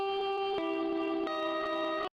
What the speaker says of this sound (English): you can kind of hear some like high-end sort of distortion in there